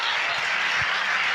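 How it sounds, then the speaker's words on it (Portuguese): Church congregation applauding during a conference service, a dense, steady wash of clapping throughout, loud and close, with no clear speech. "Dê um aplauso a ele."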